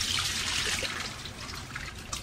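Tap water runs steadily as food is rinsed for homemade collagen, a continuous close splashing trickle with no talk.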